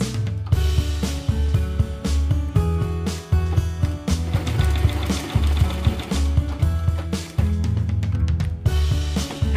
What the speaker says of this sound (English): We have to sew both sides.